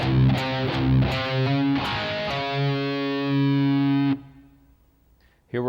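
A heavily distorted electric guitar plays the third measure of the riff with several quick chugging low-string hits, then a sustained ringing note, and it stops abruptly into near silence with a brief noise at the end.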